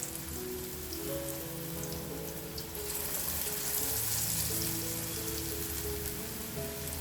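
Steady, dense sizzle of ridge gourd bajji batter dropped into hot oil, continuous crackling and bubbling at moderate level without any talk.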